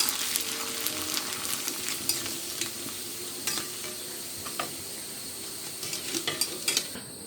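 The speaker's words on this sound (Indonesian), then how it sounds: "Kerupuk. Kan mau digoreng nih." Krupuk crackers fry in hot oil in a pan, giving a continuous crackling sizzle with scattered sharp pops and occasional clinks of a utensil stirring against the pan.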